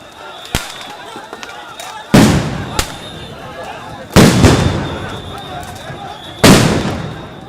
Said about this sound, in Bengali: আবারও সাউন্ড গ্রেনেড ছোড়ে পুলিশ